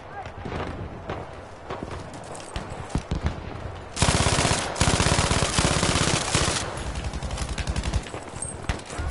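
Heavy battlefield gunfire in the video game War Story Tirailleur: scattered shots at first, then dense machine gun fire and volleys start abruptly and rattle on loudly, with voices speaking over the din.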